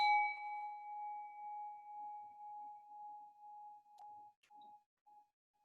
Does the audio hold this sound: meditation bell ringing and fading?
yes